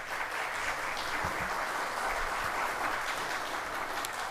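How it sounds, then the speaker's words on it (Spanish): Steady, even applause from a seated audience at a panel on digital transformation in Costa Rica, continuous and fairly far off for the whole stretch, with no talking. "Fuerte el aplauso."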